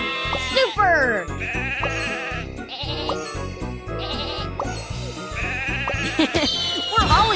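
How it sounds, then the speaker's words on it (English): Cartoonish sheep bleat repeatedly in a Thomas & Friends train game, several wavering bleats in quick succession over cheerful background music, with a voice speaking at points. "Sheep have wandered onto the tracks!"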